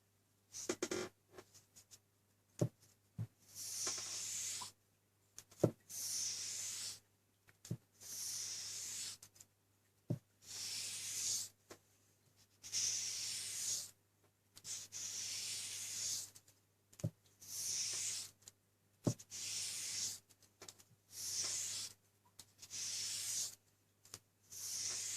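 A convex knife blade is polished on 3000 grit wet/dry sandpaper, heard as soft, quiet swishing strokes in a regular back-and-forth rhythm, broken by occasional small clicks.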